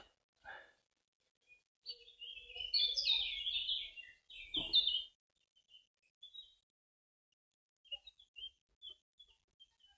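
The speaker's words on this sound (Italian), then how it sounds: "vediamo se il mio microfono riesce a captare il canto degli uccellini" Small birds sing and chirp in a wood beside a river, clear bright warbling phrases in the middle with scattered short tweets afterward, against otherwise quiet surroundings.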